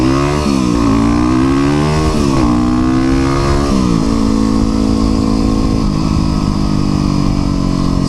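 Street motorcycle engine accelerating hard and shifting up through the gears, loud and close, with rising revs cut by several distinct gear changes before settling into a steady drone.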